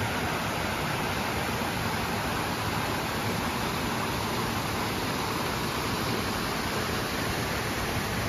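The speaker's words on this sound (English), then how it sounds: "I do love the sound of this river." A creek's water flows in a constant, loud, close rush with an even hiss that never varies, with no talking over it.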